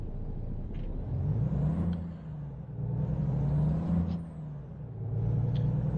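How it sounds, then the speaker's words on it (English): A truck engine in American Truck Simulator revs up, drops, and climbs again as it shifts up through the gears, three rising engine notes with a steady rumble and faint hiss between shifts. "so gearbox went first, third, fifth"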